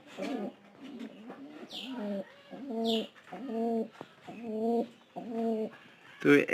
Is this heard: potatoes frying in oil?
no